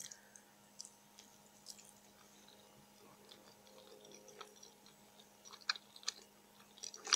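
Someone chews mozzarella cheese close to the mic, with soft, rubbery squishing and occasional clicks and smacks in a quiet room, growing a little louder toward the end.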